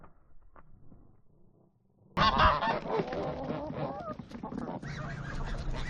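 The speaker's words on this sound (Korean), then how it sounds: "타이가 조금만 가까이 다가가도 거위들은 두려움의 하악질을 내뱉는다." Geese on a farm give loud, harsh honks and hisses at close range, a sudden burst of noisy calls after a quiet start, continuing in overlapping bursts with no speech.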